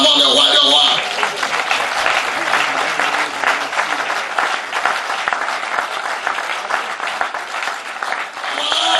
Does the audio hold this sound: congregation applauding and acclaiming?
yes